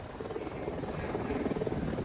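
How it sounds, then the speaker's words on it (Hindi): A military combat helicopter of the Indian Air Force, to be deployed at Jodhpur, gives a steady, fairly close rotor thrum that holds throughout the short stretch. "ये एक लड़ाकू हेलीकॉप्टर होता है जिसकी मारक क्षमता भी काफी अधिक होती है"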